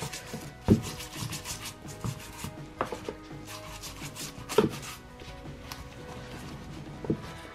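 Whitening paste being scrubbed onto a yellowed white sneaker sole, with soft steady rubbing and scratching strokes and a few sharper knocks, close and fairly quiet, no talking.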